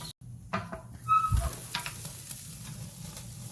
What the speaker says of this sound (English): The fat is just spewing out of the steak, causing the fire to build up a little higher.